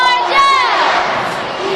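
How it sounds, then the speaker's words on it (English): Young kids packed in the upper decks of a college gymnastics arena cheer loudly, a dense, high-pitched wash of shouting voices sustained throughout the moment. "we had a large contingency of young kids up in the upper decks that were making a lot of noise"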